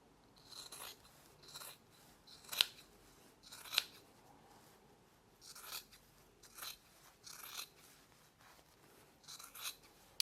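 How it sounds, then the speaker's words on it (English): Sharp scissors snip repeatedly around the edges of a sewn fabric book cover, trimming close to the stitches in quiet, irregular bursts of cutting, a few snips louder and crisper than the rest, with no talking. "trim all the way around the edges of your project"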